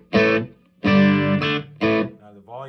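A few short bursts of overdriven Telecaster guitar through an AC30 amp model on a Line 6 POD Go, each chord ringing briefly and then cutting off, with pauses in between.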